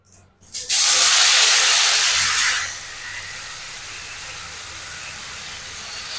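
Taro leaves (kochu shak) hitting hot oil in a pan with cumin, dried red chilli and bay leaf, giving a loud sudden sizzling hiss that holds for about two seconds and then settles into a quieter steady frying noise.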